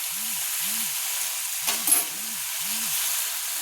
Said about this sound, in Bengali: দিয়ে আমি 2 মিনিট মতো মাঝারি ফ্লেমে আলুগুলো নেড়ে নিচ্ছি।